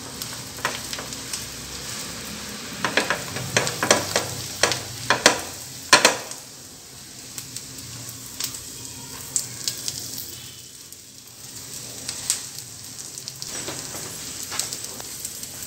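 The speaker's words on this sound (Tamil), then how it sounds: "நம்மளுடைய பாவ் பஜ்ஜி நல்லா இதில் ஃப்ரை பண்ணி எடுத்துடலாம்." Pav bread toasts in a hot pan with bhaji spices, giving a low constant sizzle overlaid with intermittent spatula scrapes and clacks, busier early and sparser later.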